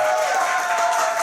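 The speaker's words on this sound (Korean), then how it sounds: "이제 더 크게 박수 쳐주세요" A church youth-service congregation applauds in a steady, dense wash of clapping that fills the whole moment without pause.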